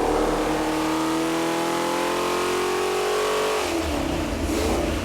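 A classic Buick 350 small-block V8 sweeps upward in a loud, steady rev under load on an engine dyno. The pitch climbs smoothly, then the run cuts off and the engine drops back to a rumbling idle.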